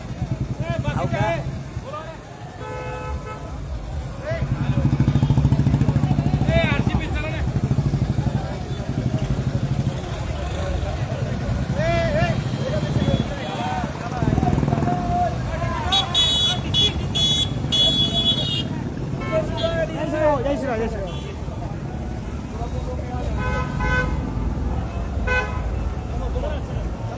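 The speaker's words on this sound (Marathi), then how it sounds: "खचाखच गाड्याच्या गाड्या चालू आहेत" Cars and motorcycles stream past at a crowded Maratha rally, engines droning while horns toot repeatedly in short bursts, and people talk and shout nearby over the traffic.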